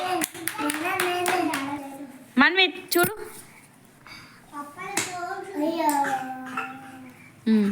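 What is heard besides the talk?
children clapping hands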